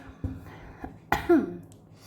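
A few short, close coughs, the last one harsher and throaty, with brief quiet gaps between them.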